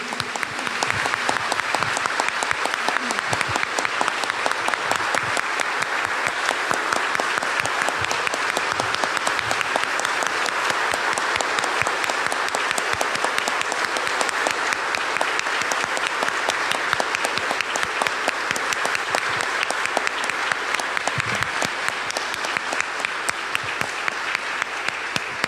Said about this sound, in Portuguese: A salva de palmas para Jesus.